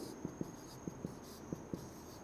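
Chalk or marker strokes on a classroom board make about six short, soft taps and scratches in a fairly steady rhythm, quiet and close, with no talking over them.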